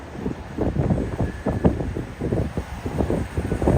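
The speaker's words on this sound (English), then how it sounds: "the wind is crazy" Strong gusts of wind in lower Manhattan near Battery Park buffet an outdoor microphone, a close, rumbling low roar that surges and drops irregularly throughout.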